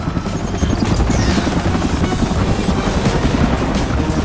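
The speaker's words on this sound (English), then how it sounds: "Such range, speed, and accuracy on that helicopter." A helicopter in the game Agent Intercept roars loud and close, its rotor thumping as a steady rapid chop over a dense low engine drone that fills the whole clip.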